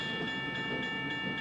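An old C40 freight locomotive hauling a trash train on the Ohio Central Railroad, Cincinnati Wilmington & Zanesville Line, rumbles steadily past with a sustained, layered horn chord ringing over the rolling noise.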